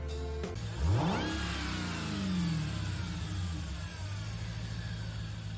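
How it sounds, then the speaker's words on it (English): A Dodge Charger SRT Hellcat built as an LM-style race car in Gran Turismo 7 revs up with a rising supercharger whine that sweeps high and then settles into a steady engine drone. "Now that's a good supercharger wine."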